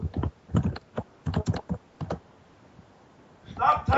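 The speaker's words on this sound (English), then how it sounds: "Why are you typing so much, Riddler?" Rapid clicky keystrokes on a computer keyboard come through a voice call in quick bursts, then pause before another dense flurry of typing starts near the end.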